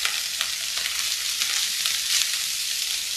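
Shrimp fried rice spread out frying in a hot skillet, a steady bright sizzle with light stirring scrapes throughout, close and continuous.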